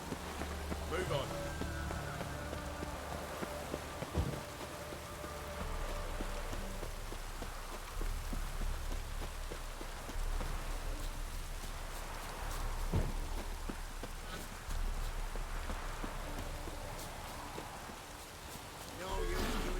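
Rain falling in The Witcher 3, a constant soft hiss of rain on surfaces with scattered drops and faint hoof-like clops, heard under spoken dialogue.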